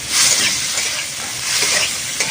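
Oil sizzling in a pan on the stove, a loud continuous hiss with faint stirring texture, no talking.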